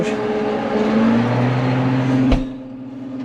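A hay mower's engine runs steadily while cutting frost-damaged alfalfa, a loud continuous hum with a pitch that shifts slightly upward. It cuts abruptly with a thump, and quieter running follows.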